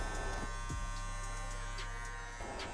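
Electric hair clippers buzz steadily and close while trimming a man's afro into a taper, a low constant motor hum with faint brushing crackles as the blades pass through hair.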